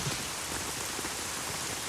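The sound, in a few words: rain falling in a film scene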